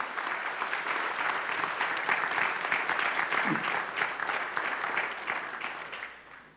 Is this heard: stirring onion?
no